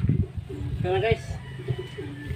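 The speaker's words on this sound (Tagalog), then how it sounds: "Yan ang ating ibon guys." A pigeon or dove coos softly a few times amid background chatter and bustle at Caticlan Port, with people talking nearby.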